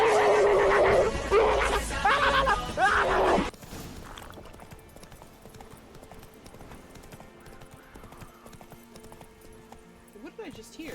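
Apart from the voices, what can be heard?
horse Roach neighing and galloping in video game Witcher 3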